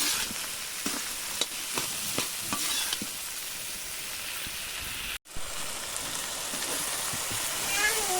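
Onions sauté with a continuous hissing sizzle in a pan, broken by occasional utensil taps and a brief dropout.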